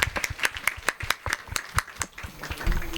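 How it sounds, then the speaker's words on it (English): At a freshers orientation day, a small audience claps in sparse, uneven bursts, individual hand claps standing out close and sharp rather than merging into a full ovation, tapering off toward the end. "that requires an applaud, a huge one"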